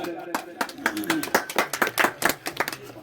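Applause at a political gathering in Bunjwah, heard as a run of sharp, uneven claps from a modest crowd, fairly close and loud, with speech-like sounds mixed in.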